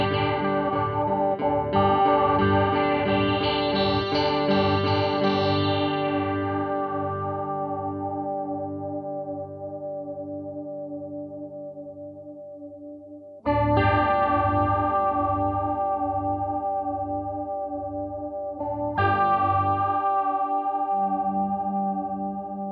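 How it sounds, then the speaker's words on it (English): A Walrus Audio Luminary quad octave generator pedal set to the +1 octave voice with its filter control swept, giving a loud, sustained effected guitar tone whose brightness shifts, re-struck twice with fresh chords, no talking. "now let's hear what the filter control does"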